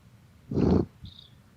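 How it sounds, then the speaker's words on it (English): A brief soft, low rumbling burst of a house cat purring close to the microphone, followed by a faint rustle and a quiet high squeak. "Make the kitty purr into the mic."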